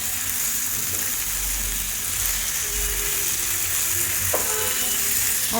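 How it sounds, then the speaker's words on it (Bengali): Chicken pieces sautéed in spice masala for a homestyle chicken curry, a steady close sizzle and fry hiss with occasional soft stirring scrapes, continuous without talk. "চিকেনগুলোকে দিয়ে ভালো মতো কষিয়ে নিব।"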